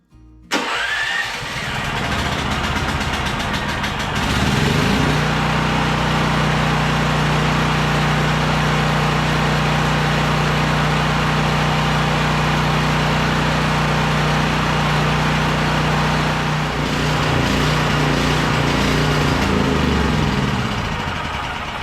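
A Champion 5500 watt generator is started with its electric starter, then catches and settles into a loud, steady mid-pitched engine drone that carries on evenly close by, with nobody speaking.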